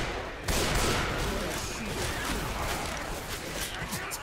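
Rapid gunfire from a one-hit gun in Left 4 Dead 2, a dense, continuous roar of shots that bursts in suddenly after a brief quiet start and stays loud and steady throughout.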